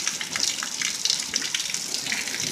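Heavy rain pours down during a hail storm in Coyle, a dense continuous hiss and splatter close by, loud and unbroken.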